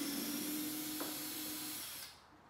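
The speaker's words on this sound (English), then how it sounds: "But either way, you just take these screws out." Screws being backed out of a Toyota 80 Series tailgate with a power driver, a steady whirring drone running for about two seconds before stopping, close and moderately loud.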